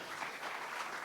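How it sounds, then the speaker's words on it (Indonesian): Congregation applause fills a church during a sermon, a short burst of dense, moderately distant clapping. "Berikan tepuk tangan buat Tuhan."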